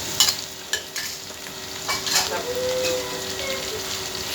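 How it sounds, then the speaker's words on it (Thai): Minced pork stir-frying in a pan for Thai pad kra pao, with a steady loud sizzle and a few clanks and scrapes of the spatula up close, without talk. "ผัดกะเพราอีกแล้ว"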